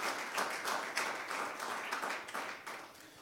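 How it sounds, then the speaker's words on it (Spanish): A church congregation claps together in steady, unbroken applause during a worship service, a soft, even patter of many hands heard at a distance and without talk. "Démosle un fuerte aplauso al Señor"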